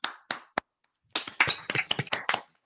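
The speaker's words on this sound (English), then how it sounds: "Let's give another round of applause for Morag" Sparse applause at a Toastmasters meeting for Morag Mathieson: a few isolated claps, a short pause, then a quick burst of several people clapping close by before it trails off.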